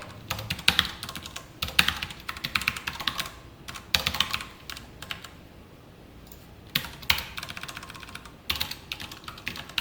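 Code typed on a computer keyboard during a React programming lesson, bursts of quick close key clicks separated by short pauses, fairly quiet, with no talking.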